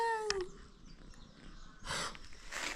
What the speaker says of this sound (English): A beautiful cat,